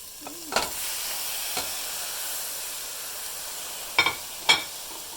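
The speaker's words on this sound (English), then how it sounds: "it's been about 3-4 minutes that my onions and celery have been sauteing and they're getting nice and soft" Previously frozen, defrosted clam meat hitting a pan of softened sauteing onions and celery, giving a steady close hiss and sizzle with a few sharp scraping stirs of a utensil against the pan.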